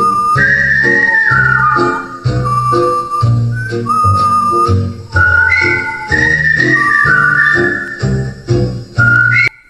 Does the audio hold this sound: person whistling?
yes